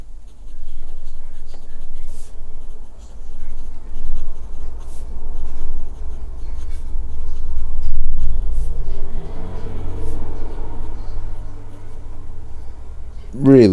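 A Platinum Meteor fountain pen with a push-pull converter scratches faintly across paper, nearly buried under a steady low rumble of passing road traffic.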